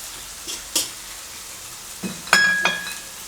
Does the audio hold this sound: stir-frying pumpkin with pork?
yes